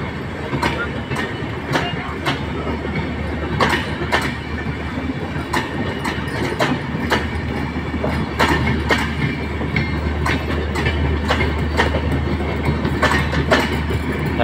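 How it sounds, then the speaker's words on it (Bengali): The Ekota Express passenger train, bound from Dhaka to Panchagarh, pulls out of Dinajpur at night with a continuous rumble and a rhythmic clickety-clack of wheels over rail joints, close and loud, under occasional voices. "ঢাকা থেকে ছেড়ে আসা পঞ্চগড়গামী একতা এক্সপ্রেস রাত 10টা বাজে, 10টা 5। এই মুহূর্তে দিনাজপুর ছেড়ে যাচ্ছে।"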